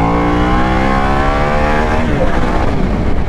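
Harley-Davidson Pan America Special motorcycle from 2021 accelerating hard in sport mode through third gear, a loud, steady engine roar with rising harmonic pitch and heavy wind rush, close and continuous with no talk.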